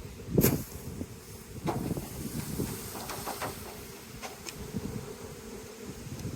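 Honeybees droning steadily around an open hive while frames are shifted apart and the lid goes back on, a close, continuous buzz with occasional louder passes and light knocks.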